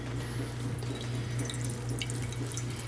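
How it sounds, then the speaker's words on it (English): Water dripping and trickling from freshly made mozzarella curds as they are lifted to strain, a steady close wet patter over a low constant hum, with no talking. "we're gonna strain the water"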